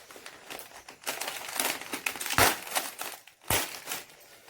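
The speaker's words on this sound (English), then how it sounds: "You are tearing it, this packet like this, right?" A plastic packet is torn open and crumpled up close, with bursts of crackling crinkle, a couple of sharp snapping rips, and a short pause before a final tearing crunch.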